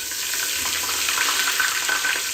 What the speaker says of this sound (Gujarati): ત્યારબાદ તેમાં લીમડો નાખી દઉં છું.